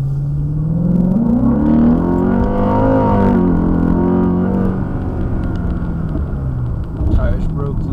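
A Hyundai Genesis R-Spec sedan fitted with Borla Pro XS mufflers revs under light throttle, its deep exhaust drone rising and falling in pitch, close and loud throughout.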